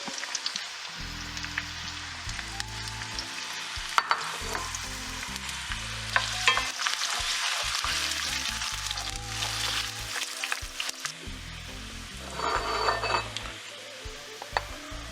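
Half an onion sweating in hot lard, a continuous close sizzle with intermittent spoon scrapes and low pan thumps, swelling louder toward the end; no talking.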